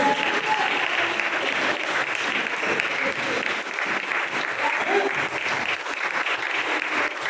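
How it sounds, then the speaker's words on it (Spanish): A church congregation gives sustained applause during a sermon, a thick, even wash of many hands clapping that stays loud and steady throughout, with no voice on top. "¡Aplauso para él!"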